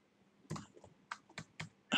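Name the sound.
typing on a computer keyboard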